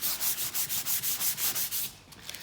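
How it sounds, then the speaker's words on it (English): Rhythmic back-and-forth sanding of body filler on a Riley Pathfinder car, steady close rasping strokes with no talk. "So just give it a real good sand down."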